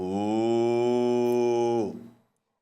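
A person imitates a cow's moo with one long, steady, low droning call held for about two seconds, loud and close, before it trails off into silence.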